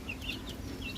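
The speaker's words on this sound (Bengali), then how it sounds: "এটা হবে মুরগির বাচ্চা" A young hill-breed desi chicken chick in a cage gives a few quick, thin, high chirps, near but soft, over a low steady background hum.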